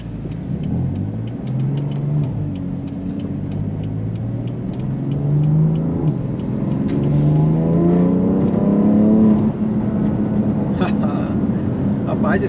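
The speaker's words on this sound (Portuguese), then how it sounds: "Dá pra ouvir o barulho do turbo enchendo, galera." BMW M3 Stage 2 with an SSR downpipe accelerating at partial throttle, its engine note rising steadily through a gear under a whirring turbo as it spools, heard from inside the car with speech over it.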